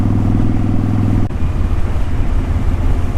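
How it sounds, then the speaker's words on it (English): A motorcycle engine runs steadily and loudly close by, with a strong low drone that shifts in tone partway through as the ride goes on. "I have to get on the bike"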